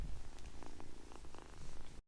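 A pet cat on a farm in Morocco purrs steadily at close range, a low continuous rumble with soft pulsing, alone without voices, for about two seconds before cutting off.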